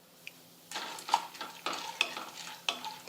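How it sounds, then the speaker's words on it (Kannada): Chana dal frying and being stirred in hot oil in a pan on the stove, with a light sizzle under a run of close scraping stir strokes that recur every half second or so. "ಇವು ಎಣ್ಣೆ ಹಾಕಿ ಚಲೋ ಹೊತ್ತಿನಾಗೆ ಫ್ರೈ ಆಗ್ಬೇಕು ರೀ"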